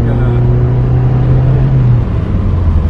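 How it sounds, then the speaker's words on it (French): A Volkswagen Scirocco Mk1 GLI engine drones steadily from inside the moving car, loud and close, its low hum holding an even pitch before easing slightly near the end. "Le moteur est super nerveux."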